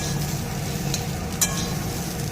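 Fish roe frying in hot oil with garlic, onion and green chili, a steady close sizzle with faint stirring scrapes and a couple of brief utensil clicks, no talking.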